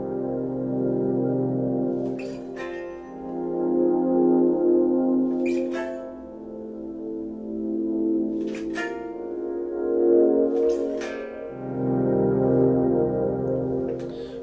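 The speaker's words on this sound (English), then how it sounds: "doing this will basically create kind of like a pad-like texture with a little bit of delay and reverb behind it." Electric guitar strummed through a harmonizer pedal with delay and reverb, making a sustained pad-like wash; four strummed chords ring out and blend into each other, the tail of each one carrying into the next, with no other sound.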